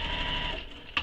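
Sewing machine running steadily as it stitches the base of a handbag to its lining, a continuous mechanical whir with a brief louder clack near the end, close up and with no talking.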